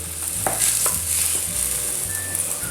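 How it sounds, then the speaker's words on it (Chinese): Pineapple pork rib sauce bubbles and sizzles in an uncovered pan over high heat, a continuous close hiss with a few faint scraping stirs and no talking. "大火收汁。 这个时候不用盖盖子。"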